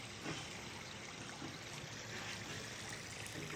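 Water gushing from a water pump outlet, a faint, continuous trickling stream with no speech.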